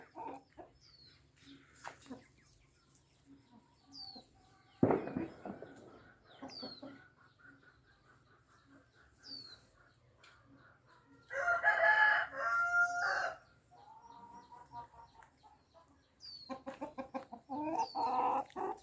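Backyard chickens cluck intermittently while a rooster crows loudly several times. There is a sharp bang near the five-second mark and a lighter background of bird calls, all heard outdoors at close to moderate distance with no talk.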